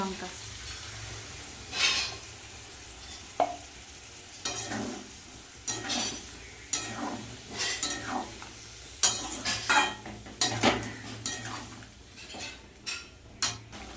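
Potatoes and pointed gourd fry in oil with a ground spice paste of tomato, ginger and cumin, a steady sizzle broken by repeated scraping and clinking stirs of a utensil against the pan.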